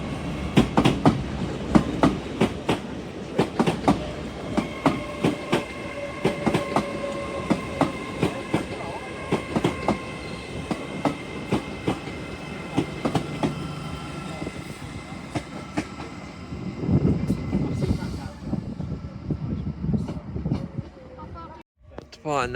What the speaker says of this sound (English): Departing now is 1304 Transport Express service from Newcastle to Liverpool Lime Street for the 802 202.